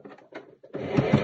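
Sewing machine stitching the shoulder seam of a simple A-line dress, the motor starting after a few soft handling noises and then running steadily and close for about half a second to the end.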